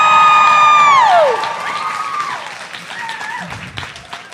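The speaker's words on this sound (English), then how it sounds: "give it up, like a big, huge, warm round of applause for Lo Wheeler Davis" A live panel audience at a hair event bursts into applause and cheering, with a long rising whoop sliding down at the start, then clapping and scattered shouts gradually thinning out.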